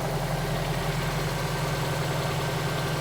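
Subaru STI engine on newly fitted Perrin engine mounts idles smoothly, a steady low hum with an even, unbroken drone heard up close and alone.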